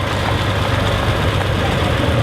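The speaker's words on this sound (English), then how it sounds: "Thank you for bringing the tractor." A 100-year-old tractor engine idles at a small-town Summerfest parade, a steady low rumbling chug close by that holds even throughout with no talking over it.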